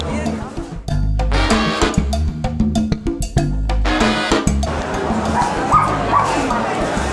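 A small dog at an indoor food market in Madrid gives a rapid string of loud, close barks and high yips with whimpering in between, mixed with crowd chatter and voices nearby.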